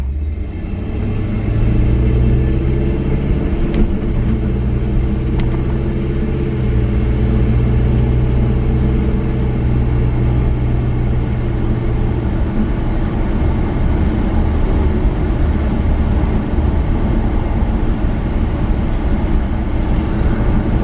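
A 1984 Chevy truck's engine drones loudly and steadily from inside the cab while driving, a constant low rumble with slight rises in revving and no talking.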